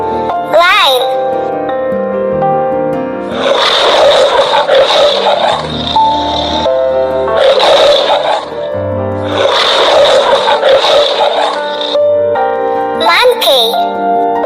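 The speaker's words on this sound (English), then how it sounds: "Lion." Lion roaring in long, loud bursts separated by short gaps, close and powerful, with brief vocal sounds at the start and end.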